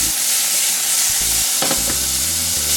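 Good-quality meat for Zürigschnätzlets sizzles and fries loudly and steadily in a hot frying pan, with brief stirring and pan clatter in the middle, close and continuous with no talking.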